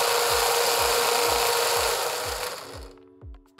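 A homemade lathe spins up with a loud, rough whirring hum and a steady rhythmic knocking, then winds down and stops near the end.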